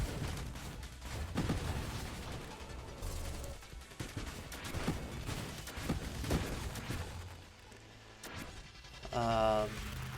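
Rapid bursts of gunfire and fiery explosions in the space shooter Nova Drift, dense and continuous over a constant low rumble, with a swelling resonant boom near the end while players talk over the action.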